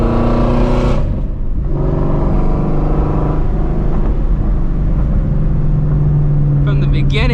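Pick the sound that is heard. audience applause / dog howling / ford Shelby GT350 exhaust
ford Shelby GT350 exhaust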